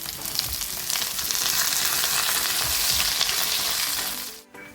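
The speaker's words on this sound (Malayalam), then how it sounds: "നമ്മൾ ചെറിയ ഉള്ളിയും തേങ്ങാക്കൊത്തൊക്കെ നന്നായി ഗോൾഡൻ കളറായിട്ടുണ്ട്" Small onions and coconut pieces sizzle in a pan while frying until golden, a dense steady crackle of hot oil throughout with occasional stirring, close up, ending with a brief drop-off.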